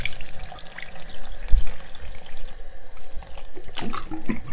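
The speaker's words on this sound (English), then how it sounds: "take your water and just splash your face" Water splashed onto a face at a running bathroom sink, with tap flow and several wet splashes and slaps, close and fairly loud, the strongest bursts near the start and end.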